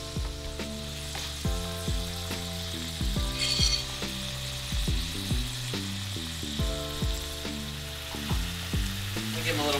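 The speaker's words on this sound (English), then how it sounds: "we're gonna throw it in to that hot pan right now" Shrimp coated in a quick garlic marinade sizzles steadily in a hot pan. A continuous, bright frying hiss runs under background music for the whole stretch.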